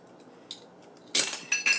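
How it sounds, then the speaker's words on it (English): A pot lid dropped on a kitchen floor during vegan salad prep gives a bright metallic clatter and ring, followed by a couple of smaller clinks as it settles. Nothing else is heard beforehand except faint light taps. "be sure to throw the lid on the floor"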